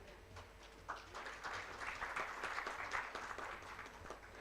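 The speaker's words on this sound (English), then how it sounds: "A warm round of applause for our panel." An audience at a crafts-sector session applauds its panel, building from a light start into a moderate, steady clatter of hands at mid distance.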